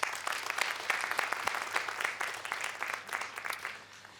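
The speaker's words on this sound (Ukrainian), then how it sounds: "якщо ви згодні зі мною ваші оплески" Applause from a seated audience at a stand-up comedy show, a fairly soft but dense wash of many hands clapping for about four seconds before easing off.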